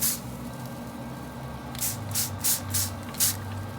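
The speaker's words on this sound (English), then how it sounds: "Now let's give it a little spritz just before we wrap it up." Spray bottle spritzing pork ribs before foil wrapping on a pellet grill, four short hissing bursts in quick succession over a steady background hum, close and fairly loud.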